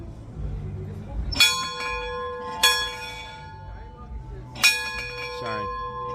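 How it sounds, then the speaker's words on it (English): A bell swung by hand in historic St. Augustine gives three loud, close clangs at uneven intervals, each leaving a shimmering, drawn-out ring, while a person speaks quietly beneath the tones. "that bell is very interesting because you see, you grab this bell."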